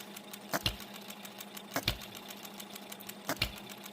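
An OKMO B02 model engine, run straight from the box, chugs slowly with three sharp, evenly spaced knocks over a steady mechanical hum, heard up close with no talk.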